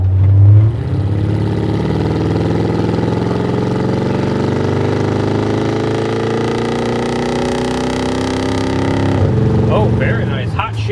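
A 1951 GMC panel van on 18-inch wheels with a Stage 2 204R automatic transmission accelerates hard, its engine note rising steadily and loud through the shifts, with people talking over the sound.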